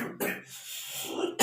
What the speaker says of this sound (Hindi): खांसी आ गया